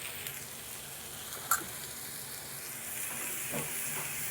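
Chopped vegetables for a Konkani-style katla bhaji frying in a pan with green chilli and turmeric, a steady close sizzle with a soft hiss throughout and a couple of brief stirring clinks.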